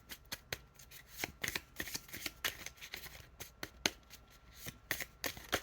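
Brand new playing cards, stiff and sticking together, are riffled in repeated quick bursts, each a sharp papery flutter and snap, close and fairly quiet, with no talking.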